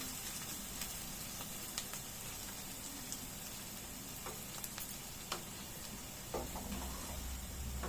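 Turmeric, salt and chili powder sizzle quietly in a pan, a soft continuous crackle with occasional small pops and spits.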